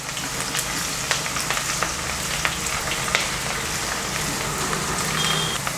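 Garlic, ginger and green chili frying for a Kerala-style beef curry with yam, giving a steady close sizzle with scattered crackles and light stirring scrapes, no voices.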